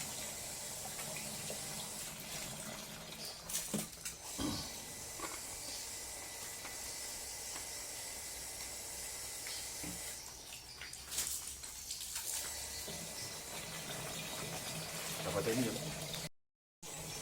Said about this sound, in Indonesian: Kita isi airnya full satu tangki.